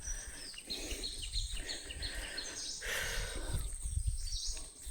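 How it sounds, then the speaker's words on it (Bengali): Birds call in the Sundarbans mangrove forest, scattered chirps and tweets at moderate distance over a quiet background of insects and faint ambient noise. "শুধু পাখির ডাক প্রকৃতি"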